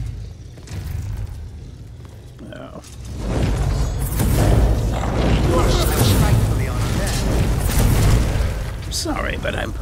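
Fire bolt spells cast and bursting in the Skyrim game, a quiet rumble swelling into a loud, sustained fiery roar with booming crackle, heard alone without talk.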